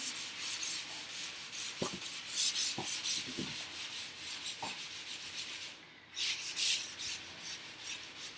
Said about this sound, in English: the heavier sanding paper was leaving a rough finish on them